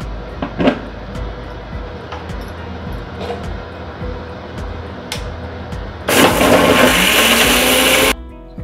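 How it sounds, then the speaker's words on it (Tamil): Mixer grinder crushing roasted spices with salt into powder: quiet kitchen noises with a few clicks and knocks, then the motor roars loud and steady for about two seconds before cutting off abruptly. "இப்போ என்ன பண்ணோன்னா நம்ம மிக்சியில் அடிக்க போகிறோம்"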